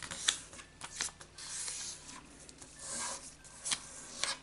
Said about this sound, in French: je plie déjà ma feuille en deux